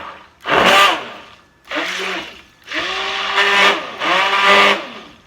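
A handheld stick blender pulses through a cold process soap mixture in four loud bursts of whirring motor noise, each separated by a short pause, with no talking.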